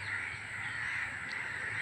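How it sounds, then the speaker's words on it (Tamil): Crows caw outdoors as a flock gathers around a dead crow, the calls fairly distant and faint over a steady wash of background noise throughout. "ஒரு காக்கா செத்து போயிடுச்சுன்னா உடனே வந்து ஒரு காக்கா பார்த்துருச்சுன்னா போதும் உடனே இவ்வளோ கூட்டம் கூட்டிடும்"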